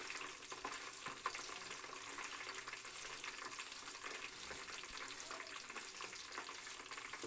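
Ingredients for homemade hair oil sizzling as they fry in hot oil, a steady, soft crackling hiss that continues evenly throughout.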